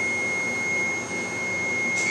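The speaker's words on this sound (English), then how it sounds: "push the green button to turn off the beeping noise" A Duplo 5000 collator beeps, a steady, high-pitched electronic tone holding without a break over faint background hum.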